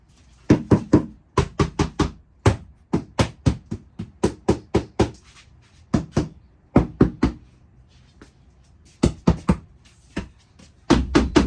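Knocking on a door, in repeated bursts of three to five sharp raps with short pauses between them. The knocks are close and loud, with no other sound in between.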